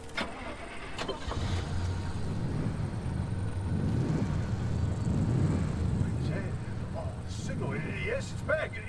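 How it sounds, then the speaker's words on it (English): A car engine in a video game cranks and catches, then settles into a steady mid-pitched running hum, with a person talking over it. "Start the engine."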